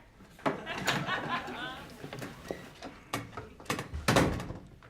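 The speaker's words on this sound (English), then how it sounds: "Shut my door." A door is pushed shut in an indoor comedy scene from the sitcom Still Game, giving a few soft thuds and knocks amid people talking, with a firmer knock near the end.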